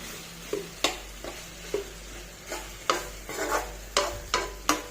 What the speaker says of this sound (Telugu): ఇలా తిప్పుకుంటూ వేయించుకోవాలి.